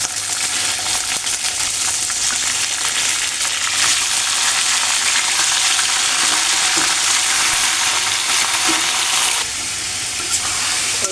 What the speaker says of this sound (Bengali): মাংসটা আলু দিয়ে ভেজে নেব।